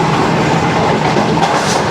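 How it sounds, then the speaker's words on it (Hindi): A Shalimar Express passenger train runs past Khairpur railway station, giving a loud, steady rumble with continuous wheel clatter and rail noise throughout, no voices. "ट्रेन हमारी खैरपुर रेलवे स्टेशन को पास थ्रो करने लगी है"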